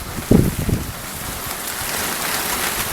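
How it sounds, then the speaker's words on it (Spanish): Gusty rain blowing sideways in Sabinillas, Manilva, a dense steady hiss of rainfall with a few louder wind-driven bursts near the start. "Cae la lluvia de lado,"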